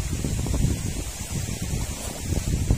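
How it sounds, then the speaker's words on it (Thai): Very strong morning wind buffets the microphone in gusty, uneven roars that rise and fall, loud and close, with no voices. "เช้านี้ครับบอกเลยว่าโอ้ลมแรงครับลมแรงมากๆครับลมแรงจริงๆ"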